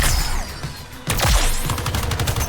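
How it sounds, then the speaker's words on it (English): A film soundtrack delivers a quick burst of gunfire followed by a sharp crashing blast, both loud and compressed in a short, busy action moment, with no speech over it. "Here comes the explosion!"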